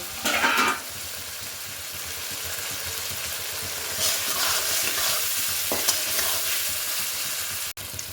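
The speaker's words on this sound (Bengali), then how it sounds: "দু তিন মিনিট মতো মশলাগুলো ভাজা হয়ে গেল" Ground spices stir-frying in a pan for a pea nimona sizzle steadily at close range, with occasional spatula scrapes and short louder bursts as the mixture is turned.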